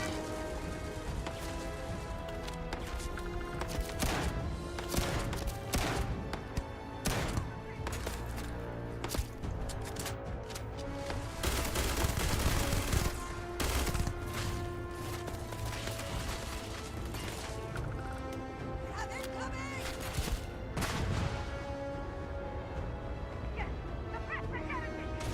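Automated turrets in Starfield: Shattered Space firing in dense, continuous rattling bursts for the whole stretch, layered over busy game music and effects, loud and sustained with only brief lulls.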